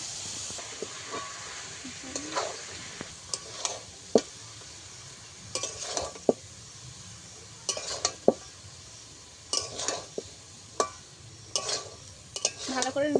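Boiled peas stirred into fried masala in a pan: a soft background sizzle broken by intermittent sharp scrapes and knocks of a spoon against the pan, near and moderately loud, with no speech.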